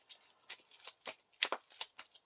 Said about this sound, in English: So we shuffle the discard pile into the counter deck